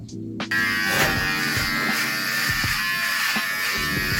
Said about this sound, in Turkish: Şimdi saçım sakalım birbirine geçmiş o yüzden tıraş olacağım